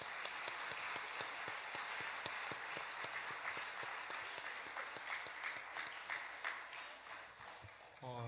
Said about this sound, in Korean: 총대원 여러분, 다시 한번 박수 주시겠습니까?